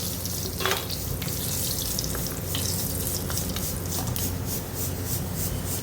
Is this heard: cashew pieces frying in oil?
yes